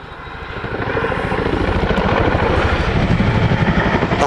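A Chinook twin-rotor helicopter makes a high-speed run at an airshow display, its heavy rhythmic rotor thudding and turbine roar swelling louder as it approaches and staying close and powerful.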